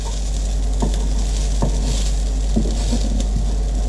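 Vegetarian sausages frying in a pan give a steady close sizzle, with occasional soft pops and light taps over a constant low hum.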